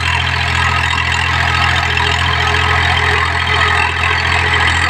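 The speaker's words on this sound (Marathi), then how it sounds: "आज दिवसभर ट्रॅक्टर नांगरायला चालणार आहे" A Swaraj tractor engine drones steadily and loudly close by while ploughing, a continuous low rumble with an even throb and no pauses.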